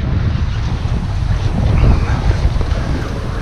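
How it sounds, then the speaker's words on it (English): Rough lake water and strong wind at a Woodland Caribou Provincial Park canoe trip, with steady roaring gusts buffeting the microphone and waves sloshing close by, swelling slightly near the middle. "the lake is super rough here"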